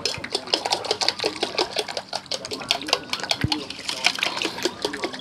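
Whole eggs, shells included, are dropped into a homemade liquid plant fertilizer mix, giving a busy run of close clicks, clinks and wet sloshing as the mixture is stirred.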